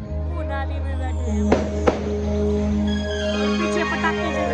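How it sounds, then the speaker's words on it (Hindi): Two sharp firecracker cracks go off a short way behind a Ganesh Chaturthi pandal gathering, close together, over a steady musical hum and someone talking. "पीछे पटाखे जल रहे हैं"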